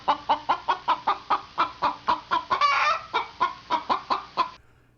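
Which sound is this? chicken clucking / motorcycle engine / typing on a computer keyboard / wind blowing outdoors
chicken clucking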